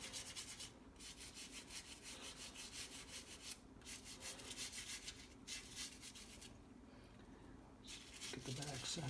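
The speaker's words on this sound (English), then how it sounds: "So we'll just give this a little scrub." A brass award plaque from a 1995 harness horsemen's association is scrubbed with repeated rapid rubbing strokes, close and fairly faint, the rhythm broken by a few short pauses.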